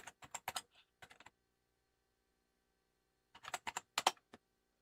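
Fingers type on a computer keyboard in two quick bursts of crisp, close clicks separated by a pause of about two seconds, with no talking.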